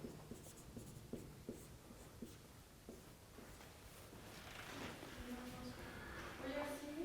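A lecturer writes an equation on a board during a signals and systems class, with a steady run of scratchy, tapping strokes. Murmured speech and room noise rise beneath the writing toward the end.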